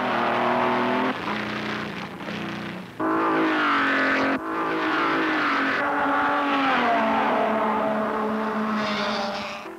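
Vintage Grand Prix race cars, Alfa Romeos followed by a Lago Talbot and Maseratis, roar past one after another, loud engine notes rising and falling as each car sweeps by.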